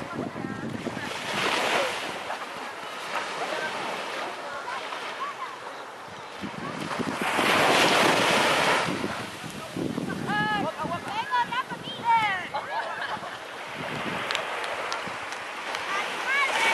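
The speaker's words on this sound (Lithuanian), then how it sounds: "Čia vandenynas." Ocean waves surge and wash onto a beach in slow swells, with wind noise on the microphone and a person talking partway through.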